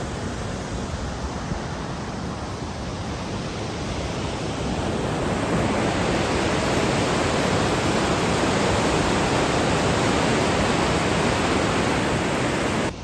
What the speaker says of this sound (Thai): เสียงน้ำตกเมื่อกี้